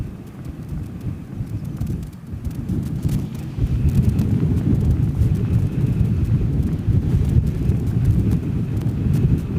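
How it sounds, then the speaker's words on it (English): Strong, stiff breeze buffeting the microphone at an RAF base, a loud, low rumbling roar that dips briefly and then swells and holds steady, with no talk. "There's a good, strong, stiff breeze straight at me."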